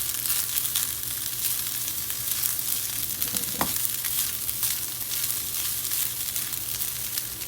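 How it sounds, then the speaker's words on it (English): Rice fries in a pan for seafood rice, giving a continuous close hiss and crackle of sizzling oil with a single sharp tap of a utensil midway, no voices present. "Let that fry a little bit in here."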